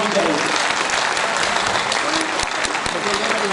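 A large audience at an innovation and start-up summit at Government Medical College Banda applauds in a dense, continuous roar of clapping at even loudness, with a voice faintly mixed in.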